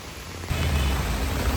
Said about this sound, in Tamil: அம்மா பயங்கர மழை.